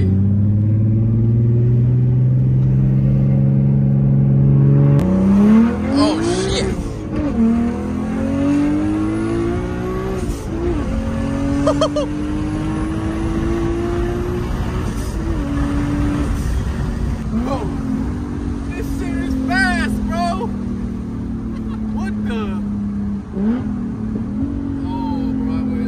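An upgraded Toyota Supra street car accelerates hard, the engine note climbing steadily through long pulls with brief shifts, loud and close, while people talk over it.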